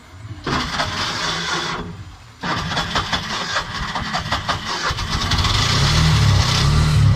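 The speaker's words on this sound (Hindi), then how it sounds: "गाड़ी चालू हो गई" A Bajaj auto rickshaw engine starts, cuts briefly, then catches again and settles into a steady close idle with a rattly, uneven putter, no talk over it.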